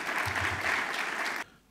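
Applause from a conference audience for distinguished leaders, a brief dense burst of clapping that cuts off abruptly near the end, moderately loud.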